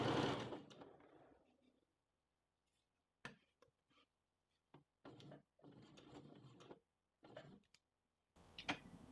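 A sewing machine stitching along the end of a bishop sleeve cuff, with a longer stitch length on the straight run, in short separate bursts of mechanical whirring and ticking with gaps of quiet between them and no talking.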